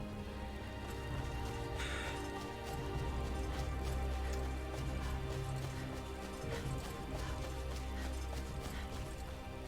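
Steady rain falling in Skyrim, a constant hiss of drops on surfaces. Rhythmic horse hoof clops run alongside it, with faint talk in the background.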